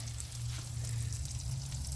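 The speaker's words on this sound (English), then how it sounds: "Hear that sizzle?" Venison backstrap and asparagus sizzle steadily on a grill, a continuous close crackling hiss with a low hum underneath, no voices.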